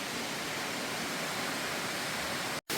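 A waterfall heard from inside a cave at the base of the falls beside a creek: a steady, dense, close rushing roar of falling water that fills the space without letting up.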